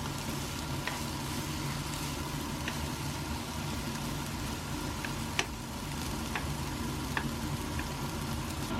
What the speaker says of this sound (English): Just going to stir this